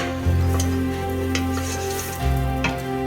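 Ground beef browning in butter for chili, a loud continuous sizzle and crackle close up, with steady stirring and scraping against the pan and a low hum underneath.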